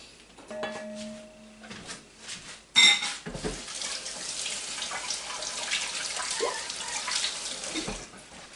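Water with almonds sloshes and swirls as a spoon stirs it, giving soft, close liquid churning and light scraping with a brief clatter early on and no talk.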